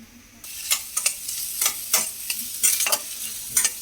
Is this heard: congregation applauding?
no